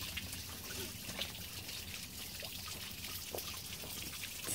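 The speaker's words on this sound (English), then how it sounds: "Still water coming out the back." Water trickles and splashes steadily from the back of a 1988 Mariner 40 HP outboard motor, a faint continuous pour with no talking.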